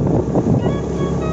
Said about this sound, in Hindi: हवा भी चल रही है साथ में, हल्की हल्की बूंदों के साथ बारिश की।